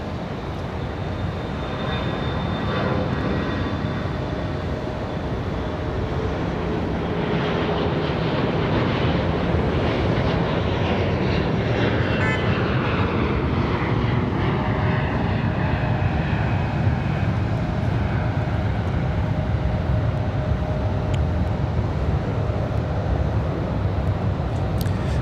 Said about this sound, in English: A CRJ sneaking out on us.